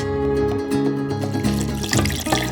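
Water poured into a blender jar holding green Hatch chilies, garlic, cumin and salt for tamale sauce, a steady close liquid splash lasting a couple of seconds with light clinks, no talking.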